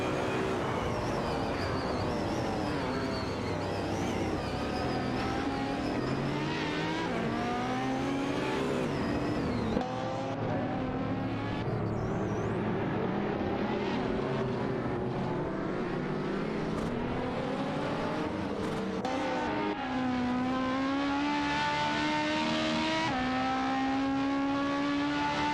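Race cars in a video-game career-mode race, including an Audi, roar steadily throughout with rising and falling engine revs, overlapping cars shifting gears as they pass.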